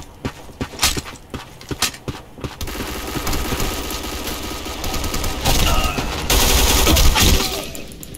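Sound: gunfire with recoil in the video game Black Squad

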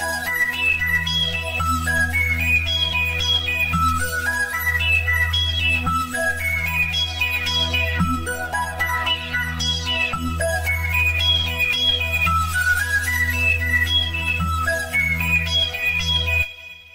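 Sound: Serum synthesizer arpeggio preset

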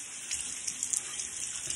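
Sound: water running from tap, rinsing razor

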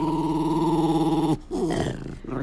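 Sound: dog growling in a played video

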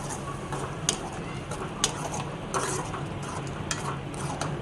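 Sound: stirring tomato puree into onions in a pan

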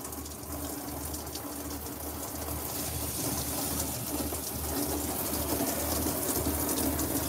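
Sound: water running from a tap

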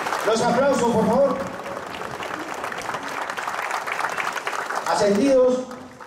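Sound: applause

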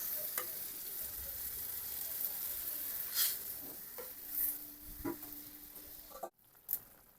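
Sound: fish and plantain curry broth boiling

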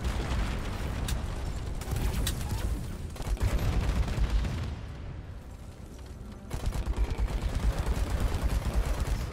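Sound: rocket barrage firing in Deep Rock Galactic video game

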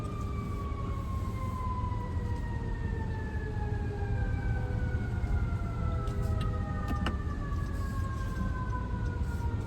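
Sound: fire engine siren

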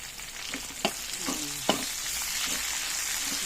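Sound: red onions and garlic stir-frying in a pan

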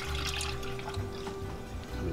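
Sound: milk being poured into a pot for grits

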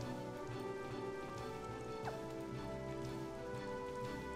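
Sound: rain in Another Eden video game

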